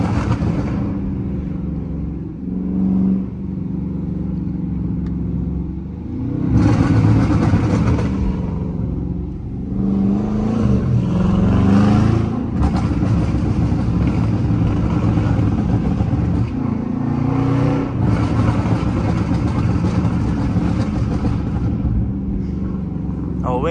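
A burble-tuned Dodge Charger R/T driving through city streets, its engine rumbling loudly and rising in repeated revving surges with popping burble between them, with voices talking over it.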